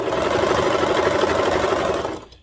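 Sewing machine stitching the back seam of a tank top, a steady fast mechanical whirr running loud and close before stopping abruptly.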